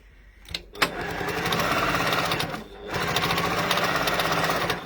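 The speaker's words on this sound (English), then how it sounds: "I'm just going to top stitch now down this edge" A sewing machine top stitching along the edge of a bag: a close, rapid mechanical chatter that starts after a couple of brief clicks, runs steadily, pauses briefly, then resumes.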